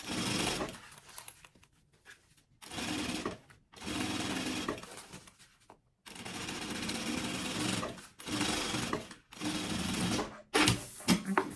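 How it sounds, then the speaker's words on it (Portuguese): A sewing machine stitches a side seam on a piece of a sublimated maternity kit, running in several steady bursts of a few seconds each, separated by short pauses, close and alone. "eu vou costurar aqui uma lateral"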